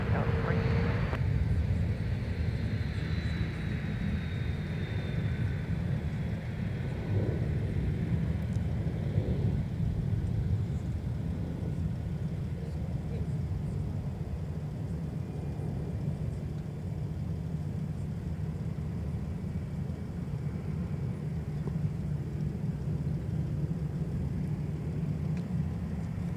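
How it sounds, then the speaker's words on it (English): A Delta Airbus A321neo arriving at MSP airport, a loud, steady jet roar and low rumble that holds for the whole stretch, with a faint whine riding above it early on. "arriving from Las Vegas, Nevada with an A321neo Delta 560"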